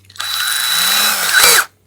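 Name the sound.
power drill drilling an 1/8 inch hole for keychain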